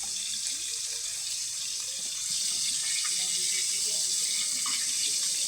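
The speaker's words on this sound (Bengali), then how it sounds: "বেগুন আস্তে ধুয়ে নেব।" Homegrown eggplant is rinsed under a steadily running kitchen tap, with water splashing continuously and fairly loud into a sink, growing slightly fuller partway through.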